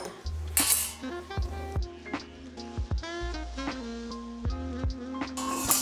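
A spoon stirs espresso in a small cup, giving bright repeated clinks and ringing taps against the ceramic in an uneven rhythm, close and clear with no talk.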